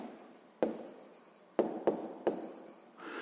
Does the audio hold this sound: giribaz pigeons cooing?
no